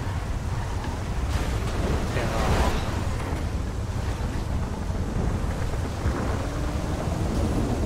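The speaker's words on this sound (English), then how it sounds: "thunder is so loud in this game" Thunderstorm weather in the GTA FiveM video game during a random race: a steady, loud broadband roar of rain and wind with rolling thunder that swells around the middle, continuous throughout.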